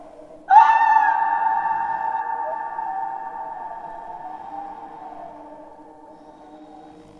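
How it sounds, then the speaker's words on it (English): A piercing, high, tonal shriek rings out suddenly over craggy ocean rocks by a lighthouse, sustained and slowly fading over several seconds, loud and alone. "a piercing shriek filled the air"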